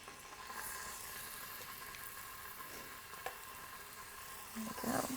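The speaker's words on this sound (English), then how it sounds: "See, it's already sizzling." Ingredients for Tuscan spaghetti sizzle in the hot inner pot of a quick cooker, a soft, steady frying hiss with light stirring clatter toward the end, no voices.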